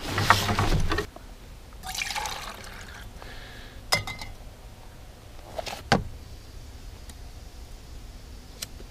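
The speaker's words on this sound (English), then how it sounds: "let's get some water" Water pours and splashes into a container for about a second, followed by quieter gurgles, a few sharp clinks and faint drips.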